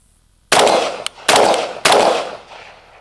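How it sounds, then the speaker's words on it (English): An M16A2 rifle fires three separate shots, each a loud, sharp crack followed by a rolling echo that fades before the next, spaced about half a second to a second apart with no talking. "So very flat shooting rifle."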